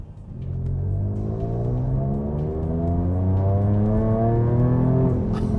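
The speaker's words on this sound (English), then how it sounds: "V6 noises are much softer and much smoother than you get with, say, a V8 engine" A Jaguar F-Type V6 S sports car engine revs up steadily, its loud, smooth rising drone climbing through the gears, heard up close from inside the car with continuous road rumble underneath.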